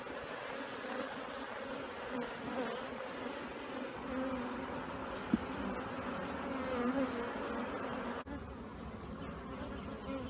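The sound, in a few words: honeybees buzzing around a hive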